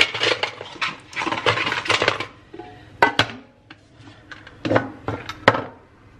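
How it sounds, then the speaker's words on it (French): A coffee jar is refilled in a home kitchen, with irregular clinks, rattles and scrapes of a container and lid in short clustered bursts, close by. "Là je vais venir remplir le pot de café parce que ça traînait depuis ce matin."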